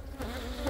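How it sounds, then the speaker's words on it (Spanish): Honeybees buzzing around an opened beehive, a close, faint hum with a couple of passing buzzes over a brief moment. "También caen algunas abejas, es normal, es lógico"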